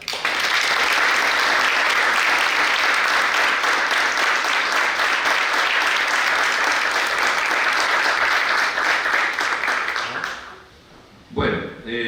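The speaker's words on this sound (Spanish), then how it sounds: "los recordamos rindiéndoles un justo homenaje con un aplauso" Sustained applause from the audience at a centenary celebration of an Italian society in Guatraché, La Pampa, given as a homage; roughly ten seconds of loud, even clapping that cuts off abruptly before a voice begins speaking.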